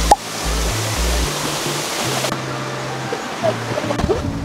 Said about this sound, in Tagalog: Naririnig ko na yung tubig.